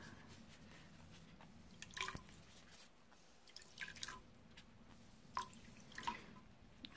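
Water drips and splashes softly as dyed cotton sliver is squeezed out after rinsing, scattered faint drips and small splats close by against quiet room tone.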